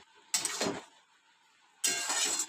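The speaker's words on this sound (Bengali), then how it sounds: "এটা ভালো করে নাড়তে হবে।" Semolina and water being stirred in a pan: two short scraping, swishing stirs about a second apart, close and fairly quiet, with silence between them.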